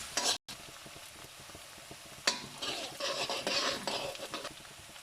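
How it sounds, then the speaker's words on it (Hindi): Onions frying with salt in a pan until golden brown, heard as a close sizzle with bursts of stirring and scraping, briefly cut by a short gap of silence. "को हम तब तक फ्राई करेंगे जब तक इसका कलर गोल्डन ब्राउन ना हो जाए"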